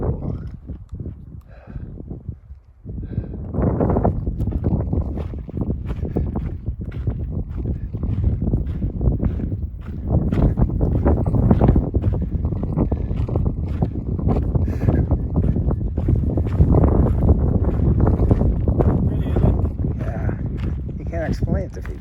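Gusty wind blows outdoors across sage-covered ground, buffeting the microphone in a rough, continuous roar that swells and drops, with people talking faintly underneath.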